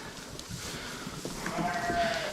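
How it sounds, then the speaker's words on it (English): A quarter pygmy goat on a ranch gives a short, thin bleat late in the brief stretch, over faint outdoor background noise. "she is 1/4 pygmy goat."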